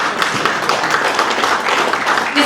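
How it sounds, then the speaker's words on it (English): An audience claps for a speaker at a live event, a dense, steady wash of many hands that stays loud and unbroken throughout. "Just keep clapping till he gets it. Keep clapping."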